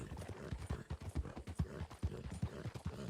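Horse hooves clip-clop in a steady, quick rhythm within the Red Dead Redemption video game, moderately quiet and close, with no voices over them.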